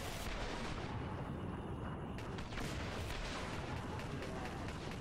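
Rapid gunfire in a first-person shooter game, sustained bursts of loud shots with echoing blasts filling the whole stretch without pause.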